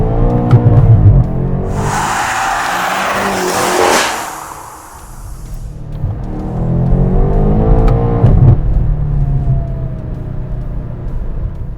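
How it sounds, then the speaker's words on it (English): A 2020 BMW M8 Coupe's engine heard while drifting, sustained revving with tire squeal, a loud surge of high-pitched screech and roar in the middle, then rising engine notes again, close and loud with no talk. "So that's what the engine sounds like."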